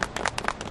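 An audience gives scattered claps in a brief, uneven burst, with a few sharp hand strikes standing out close by.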